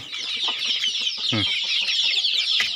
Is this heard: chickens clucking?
yes